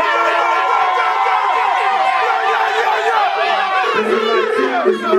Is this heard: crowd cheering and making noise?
yes